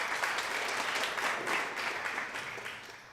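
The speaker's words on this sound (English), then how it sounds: "Give yourself a big round of applause." A TEDx audience breaks into dense, sustained applause, many hands clapping at once in a steady wash that fades slightly toward the end.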